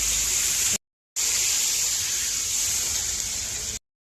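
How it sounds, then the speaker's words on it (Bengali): Water pours into a pan of fried, spiced curry base for a Bengali home-cooked fish curry: a steady, close gushing hiss, broken by two brief silences. "একটু জল দিয়ে দেবো"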